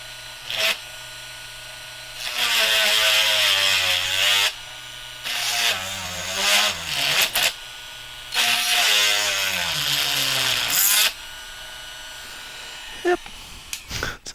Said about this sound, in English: let's drill this hole here